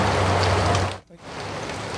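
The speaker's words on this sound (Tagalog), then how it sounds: "Bumuhos ang malakas na ulan." Dense, steady rush of heavy rain pouring down, briefly dipping to a near hush before the downpour resumes.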